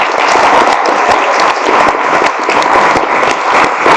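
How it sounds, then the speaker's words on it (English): A symposium audience at a university summer research event applauds steadily throughout, a loud, dense wash of many hands clapping together with no pauses. "So I want to make sure that we give them a round of applause too."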